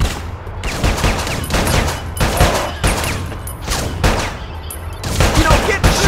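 Gunfire in the video game Bad Boys: Miami Takedown: loud, rapid bursts of shots rattle in several separate volleys, each followed by brief gaps of quieter ambience.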